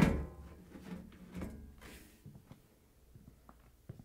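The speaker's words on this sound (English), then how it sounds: "Slide the panel back and lift it off the washer." A Samsung washer's top panel is slid back and lifted off, making a short scraping slide followed by a few light, hollow clunks and taps from the loosened panel, close by with no talking.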